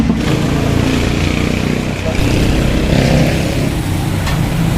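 An Easy Ride 150N motorcycle with a modified exhaust from a muffler shop idles and revs nearby, giving a continuous loud engine drone while people talk over it.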